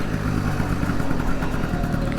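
Engine of a 1966 Piaggio Vespa 150 Sport scooter running steadily and close by during a gear change, a continuous low rumble with a slight rise in revs.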